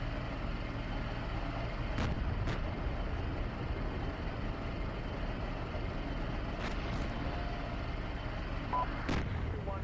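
Incoming fire in the tank simulator Steel Beasts Pro comes through as several faint, sharp impacts at irregular intervals over a constant low engine rumble, without speech.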